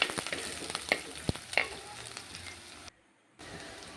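Slit green chillies fry in oil for a Kerala-style fish curry, giving a soft, steady sizzle with scattered sharp pops and crackles, close by and fairly quiet, with a brief silent gap.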